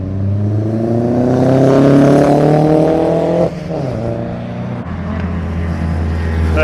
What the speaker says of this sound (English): There's the 2CV.